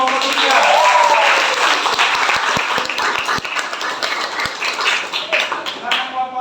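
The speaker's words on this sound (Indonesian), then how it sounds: "berikan aplaus untuk kelompok 3" Classroom students applaud a group during a lesson on aquatic ecosystem pollution, a brief burst of clapping that fades into scattered claps while people talk.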